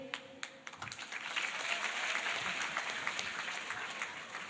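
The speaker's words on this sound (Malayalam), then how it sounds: "നിങ്ങൾക്ക് ഈ വിശന്ന കയ്യടി മാത്രമേ ഉള്ളൂ, ഊർജ്ജമുള്ള കയ്യടിയൊന്നുമില്ല?" A school crowd of students claps in a thin, half-hearted patter that swells into a moderate, steady round of applause, heard from nearby in a hall with no voices.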